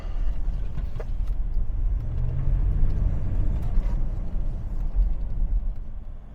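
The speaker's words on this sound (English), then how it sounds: "a belt drive noise." A car's belt drive making noise while driving: a steady low road rumble with a faint humming drone rising in the middle, continuous and close.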